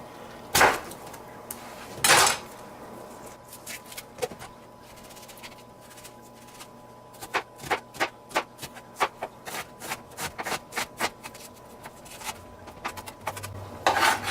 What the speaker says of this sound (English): We're going to chop up an onion.